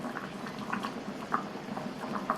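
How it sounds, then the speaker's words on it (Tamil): Thick urundai kuzhambu curry bubbles and blips steadily in a pot, with soft popping bursts at an uneven pace, close by. "இப்போ நல்லா தளன்னு கொதிக்குது."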